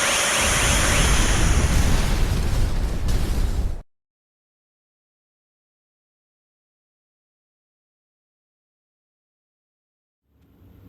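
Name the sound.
explosion in Star Ocean 5 video game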